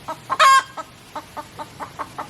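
Several small backyard chickens clucking in the evening, one loud squawk near the start followed by a steady run of short, evenly spaced clucks at moderate distance, with no talking.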